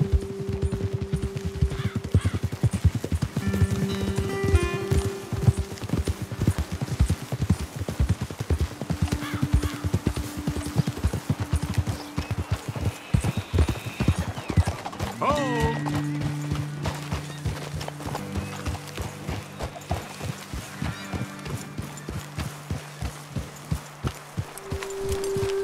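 Horses' hooves clip-clopping at a steady trot in the video game Red Dead Redemption 2, close and rhythmic throughout, with occasional whinnies and musical tones in the background.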